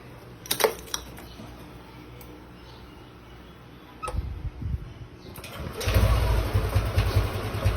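A few clicks, then a Yamaha Aerox or NMAX scooter engine with error codes 13, 15, 22 cranks and catches, settling into a loud, rough, unsteady idle close by.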